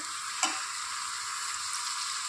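Sliced onion, green chilies and curry leaves sauté in a pan with a steady, bright sizzle and one short knock or scrape early on. No one speaks.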